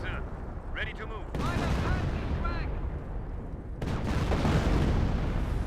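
A creeping artillery barrage in the World War II strategy game Company of Heroes pounds on, with heavy booming blasts and crackling gunfire building into a dense, continuous rumble and a voice talking over it.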